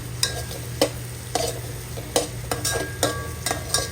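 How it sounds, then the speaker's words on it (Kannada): Curry leaf paste fries in oil while a spoon stirs it, with a soft steady sizzle beneath rhythmic scraping strokes about every half second, close up and with no voices. "ಇದನ್ನು ಕ್ಲೀನಾಗಿ ಎಣ್ಣೆಯಲ್ಲಿ ಹುರ್ಕೋಬೇಕು"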